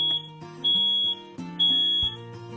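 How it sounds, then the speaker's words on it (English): A smoke alarm sounds in short piercing electronic beeps, a shrill tone repeating a few times, close and loud with nothing else present. "they need to be tested every week to make sure the battery's okay, and you do that just by pressing the button"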